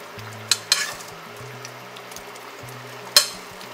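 Sautéed paneer added to a ready gravy for paneer angara, with a few sharp spoon knocks against the pan and a soft simmering sizzle beneath, under a low background hum and no talking.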